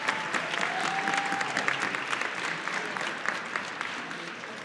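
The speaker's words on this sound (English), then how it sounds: "Give them a round of applause." An audience at a Black History Month celebration in Gwinnett County breaks into a sustained round of applause, a dense even patter of many hands clapping throughout at moderate distance.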